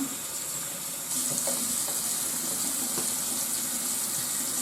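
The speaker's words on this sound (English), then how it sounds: "I fill up some water in my bottle." Tap water runs steadily into a bottle at a sink, its rushing hiss brightening slightly as the bottle begins to fill; no voices.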